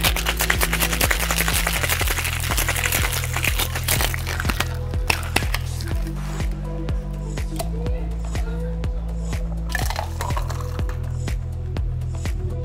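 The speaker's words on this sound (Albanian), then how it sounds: "Shakerojmë." A cocktail of cucumber, gin, fresh lemon juice and Martini Rosato is shaken in a shaker, producing a quick, rhythmic series of sharp rattling hits over steady background music.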